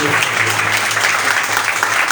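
A church congregation applauding in worship, loud and continuous clapping filling the room, with a low hum running beneath it.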